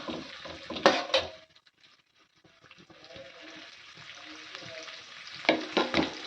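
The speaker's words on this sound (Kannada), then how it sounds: "ಈರುಳ್ಳಿ ಹಾಕ್ಕೊಂಡೆ ಈರುಳ್ಳಿ ಫ್ರೈ ಮಾಡ್ಕೊಳ್ಳೋ" Onions and chilies sizzle in a hot pan of oil tempering for a bottle gourd palya, with bursts of stirring and scraping at the start and end and a softer crackle between.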